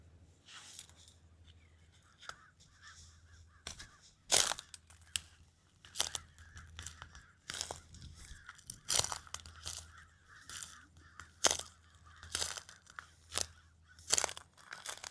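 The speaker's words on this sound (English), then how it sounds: "Some sort of bird over here was making a noise" An unseen bird at a beach at high tide gives scattered, irregular sharp calls, some loud and close, against a quiet background with faint low rumble.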